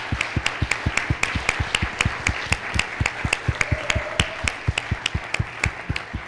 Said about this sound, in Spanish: un aplauso muy grande, yo creo que a Everspoker también